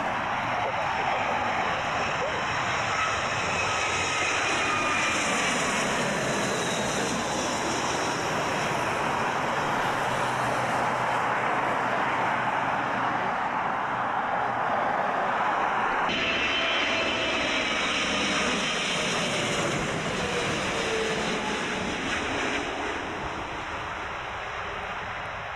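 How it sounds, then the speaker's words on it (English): Airliner flying past near Heathrow, a loud sustained jet engine roar that swells and shifts in pitch as it passes, filling the whole stretch with broad rushing noise. "Watch this aircraft."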